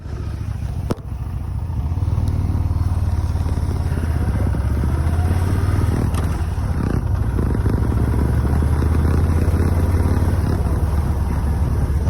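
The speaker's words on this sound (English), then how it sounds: "My bike sounds perfect." A motorcycle engine cruising at a steady pace, its low drone holding loud and even throughout, with a sharp knock near the start and wind rush over the top.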